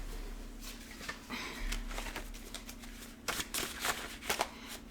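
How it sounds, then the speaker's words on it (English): A deck of oracle cards being shuffled by hand, a run of soft riffling and papery flutter bursts with brief pauses, close and moderately quiet. "I'll shuffle it up one more time."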